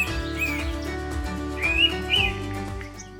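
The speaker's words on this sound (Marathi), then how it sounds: "ह्या पक्ष्याची जी शिटी आहे ही सगळ्यात विशिष्ट आहे" An Indian pitta gives a few clear rising whistled notes that stand out over a steady background drone, fairly close and distinct, with no talk.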